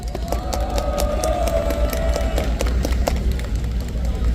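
A large crowd at a candlelight rally in Gwanghwamun, Seoul, applauds continuously, with scattered cheers and shouts rising over the steady clapping.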